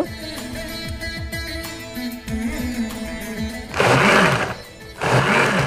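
A kitchen mixer blends papaya, sweet lime juice, sugar and milk into a mocktail, whirring in two loud bursts near the end after a stretch of quieter motor noise with background chatter.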